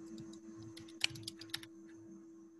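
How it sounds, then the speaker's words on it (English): Light typing on a computer keyboard during a professional skills seminar, a quick run of soft clicking keystrokes clustered in the middle, heard alone over a steady background hum. "I'll just type my name out here."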